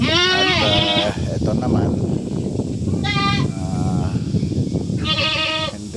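Anglo-Nubian goats bleat nearby in loud, wavering calls, three distinct bursts spread across a farmyard, while someone talks steadily underneath and between them.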